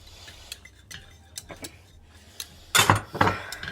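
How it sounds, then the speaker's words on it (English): Whisking egg yolks into lemon meringue pie filling: a wire whisk taps and clinks against a pot in quick, irregular strokes, faint at first, then a louder flurry of metallic scraping near the end. "Now you're going to whisk in your egg yolks and keep whisking as you add them."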